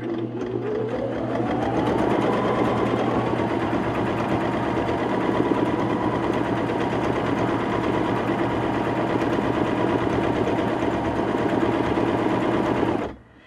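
A Baby Lock Jazz sewing machine stitches a quilting swirl during ruler work, its motor humming steadily and evenly for the whole stretch with no talking, then cutting off at the end.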